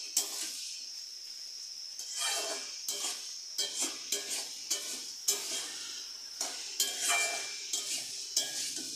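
Crab and bottle gourd curry being stirred in a pan, with a steady sizzle under repeated scraping strokes of a spoon against the metal, close and moderately loud.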